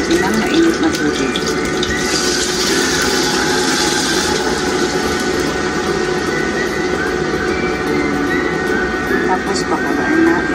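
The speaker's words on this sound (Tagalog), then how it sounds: "Pwede na, lagyan na natin ng mainit na tubig." Hot water streams steadily into a cooking pot while making fish soup, a continuous splashing pour lasting several seconds, loud and close.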